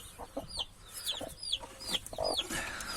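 A hen clucks repeatedly in short, close calls beside newly hatched chicks, with higher peeping chirps scattered between the clucks.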